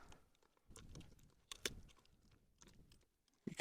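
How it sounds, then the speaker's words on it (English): Dog chewing a treat dipped in peanut butter, sporadic wet crunching and biting bursts close by, quiet with short pauses between chews and a louder snap at the end. "You can still chew."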